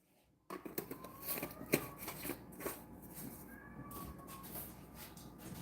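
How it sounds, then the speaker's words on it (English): A cat meows in a home kitchen where sourdough rye English muffins are being made, a few faint calls mixed with clattering and rustling. "My cat."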